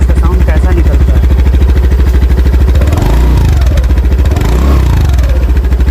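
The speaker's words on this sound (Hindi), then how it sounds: "अब एक बार इसको एक्सेलरेट करके देखते हैं कि इसका साउंड कैसा निकलता है।" A Honda Dio 125 scooter engine idles close up, then revs twice in quick succession, each rise in pitch falling back to the steady putter.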